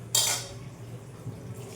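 Metal lid set down on a pan of fish curry cooking on the stove: one sharp clanking clatter, then faint lid rattle over a low simmering bubble.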